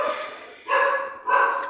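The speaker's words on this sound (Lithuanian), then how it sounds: "Kodėl čia šunys loja" Three sharp dog barks in the Roblox game, evenly spaced and loud in the foreground with nothing else behind them.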